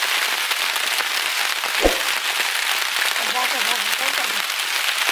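Steady rain hisses on surfaces outdoors in a village while fish is being prepared, a continuous close wash of drops with one brief low thump and faint background voices.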